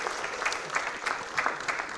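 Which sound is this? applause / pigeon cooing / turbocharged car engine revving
applause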